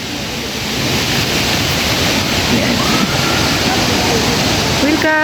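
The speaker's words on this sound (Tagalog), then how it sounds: "Welcome to Tinoyan Falls." Tinuy-an Falls roars as a loud, steady wash of broadband white noise, close and unbroken throughout, with faint voices barely audible beneath it.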